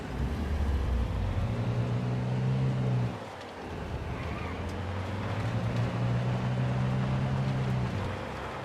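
A car engine in the video game Sniper Ghost Warrior 3 drones steadily at a low pitch, dipping briefly in the middle before the vehicle resumes a sustained, fairly loud hum with faint wind and road noise.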